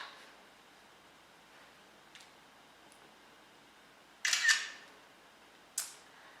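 A phone camera shutter sounds as a selfie is taken with the flash off. It gives a sharp click, then a second shorter click about a second and a half later, both close and crisp against near silence.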